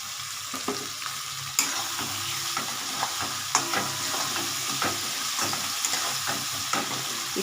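Spice paste and tomato sauté in a pan for fish-head and cabbage ghonto, a continuous close sizzle with frequent spatula clicks and scrapes against the pan in an irregular stirring rhythm.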